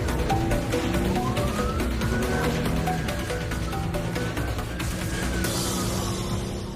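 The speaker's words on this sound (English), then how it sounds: "When the police sirens go on," A Greater Manchester Police car siren wails continuously and loudly over steady motorway road and engine noise, its pitch sweeping up and down throughout.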